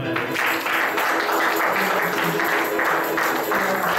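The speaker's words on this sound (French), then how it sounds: "acclamons les Seigneur" A church congregation applauding steadily, a broad even wash of clapping that carries on for several seconds without pause.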